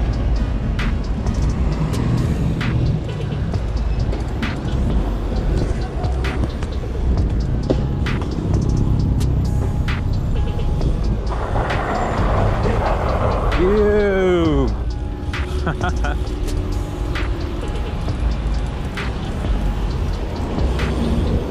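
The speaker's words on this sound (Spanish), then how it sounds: "Tráfico pesado el día de hoy" Heavy road traffic rumbles continuously and loudly, with a rising whine from a passing vehicle partway through and a steady low roar throughout, heard from a BMX bike ride on a city street.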